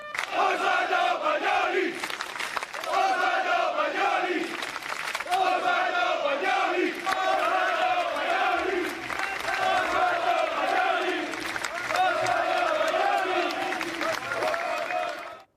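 Football fans in a town square cheer and chant together in rhythmic waves to salute their departing coach, a loud, continuous crowd sound with no single voice standing out.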